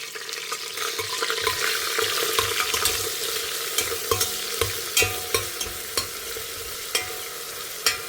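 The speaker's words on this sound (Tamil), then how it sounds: "இப்போ அதெல்லாம் நல்லா இது வறுக்க ஆரம்பிச்சுடுத்து" Ginger, garlic and red chili paste frying in oil for a baby jackfruit dum biryani, a dense close sizzle with regular spoon taps and scrapes against the pot, no voices.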